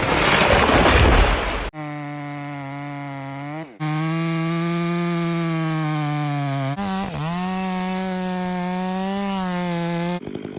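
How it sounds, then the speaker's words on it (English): A chainsaw revs loudly with a steady, buzzing whine, its pitch dipping briefly as it bites into the trunk of a large, charred tree, preceded by a short burst of noise. "Workers used chainsaws to cut deep into the trunk of a large, charred tree."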